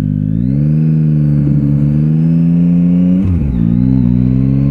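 A Yamaha Tracer 9 GT Plus accelerates hard and close up, its engine note climbing steadily, briefly dropping at a gear change, then rising again into the next gear.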